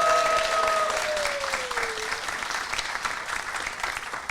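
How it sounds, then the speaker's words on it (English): Audience on a cruise ship giving a round of applause to a panel moderator, dense clapping that starts loud, fades gradually and carries a brief tonal whistle-like sweep early on. "First, everyone, please give a round of applause to Katie for moderating this panel."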